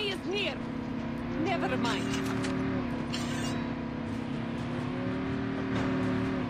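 A car engine in the mobile shooter Call of Duty Mobile drones steadily and shifts pitch as it drives, with a player talking over it throughout.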